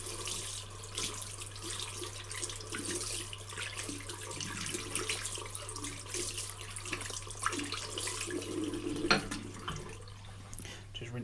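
Running water splashes and trickles steadily as a foam air filter from a nitro engine is rinsed in warm water, with small handling noises mixed in and a low hum underneath.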